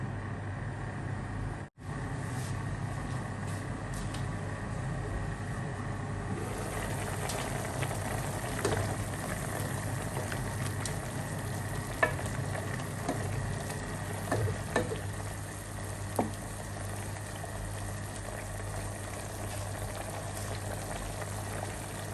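Mushrooms cooking in a pan for creamy beef with mushrooms, a steady soft bubbling sizzle that runs low and even throughout, with a brief knock early on and a few faint clinks.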